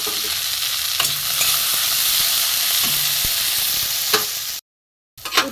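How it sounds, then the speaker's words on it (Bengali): Bitter gourd fries in hot oil, a loud close sizzle with stirring scrapes, which cuts to silence briefly before the sizzle returns. "উচ্ছেটা একটু লাল করে ভেজে নেব।"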